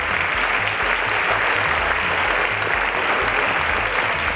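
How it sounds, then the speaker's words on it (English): Studio audience at a televised quiz show applauds a junior category champion with loud, sustained clapping that holds steady throughout, close and full, with no voices over it. "Ladies and gentlemen, a round of applause to Mr. Paul Fashe."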